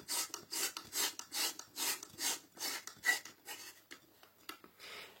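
A Mazda FEE100 25W ferromagnetic compact fluorescent bulb from the 1980s is twisted into an E27 socket, giving a run of rhythmic, close scraping rasps, about a dozen short gritty turns that grow fainter toward the end.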